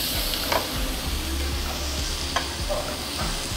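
Oil sizzles and crackles steadily as meat and garlic cook on a tabletop Japanese BBQ grill, with a constant close hiss, a few sharper pops and low clattering underneath.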